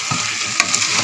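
A spoon stirs carrot halwa with khoa in a hot pan. One short, close scraping stir over a steady, soft sizzle.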